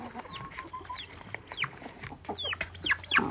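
A blue-laced red Wyandotte hen clucks among a free-ranging flock out in the rain, short rising calls repeating irregularly at moderate distance over a soft, steady background patter.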